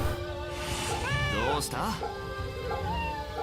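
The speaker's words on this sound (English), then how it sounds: "they also made an animation for both of them petting the cats" Cats in the video game Fate/Samurai meow and caterwaul as they are petted, the game's rising and falling cries ringing over a dense bed of game sound, with a voice talking throughout.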